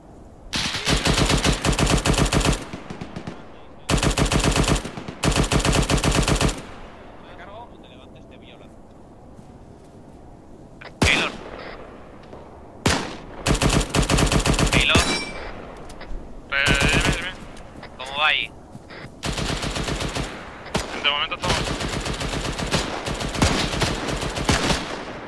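Machine gun fire in the combat video game 82AD Liberation, loud sustained bursts of rapid automatic shots separated by short pauses, with a voice talking between and over the bursts.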